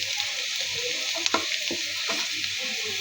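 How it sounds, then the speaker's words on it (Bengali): Onions frying in oil with garam masala for beef tripe bhuna give a steady, close sizzle, broken by a few sharper clicks and scrapes from stirring, with no talking. "পেঁয়াজটা ভাজা হয়ে গিয়েছে"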